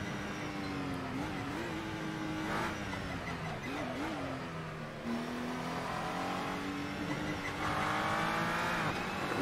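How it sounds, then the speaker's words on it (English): A Glickenhaus SCG 003 race car at the Nürburgring 24 Hours layout in Assetto Corsa roars at full throttle, engine pitch climbing and dipping through gear changes, loud and continuous from the driver's seat. "That was the Glickenhaus."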